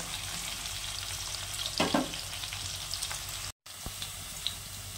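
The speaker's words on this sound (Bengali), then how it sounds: "আলুটা হালকা ভাজা হয়ে গেছে" Potatoes frying in a pan make a continuous close sizzle, with a stirring scrape midway and a brief cut in the sound before the frying resumes.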